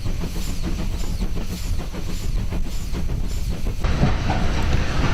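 A Strathspey Railway steam train runs near Aviemore, Scotland, with a steady loud rumble, hissing steam and rhythmic clickety-clack of wheels on rail joints, heard close from aboard, with no voices.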